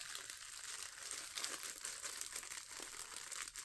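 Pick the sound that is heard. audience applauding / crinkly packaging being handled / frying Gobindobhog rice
crinkly packaging being handled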